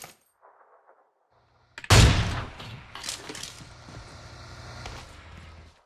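Gunfire in a battle royale mobile game, with faint clicks, then a sudden loud shot followed by a dense stretch of rattling fire and metallic impacts.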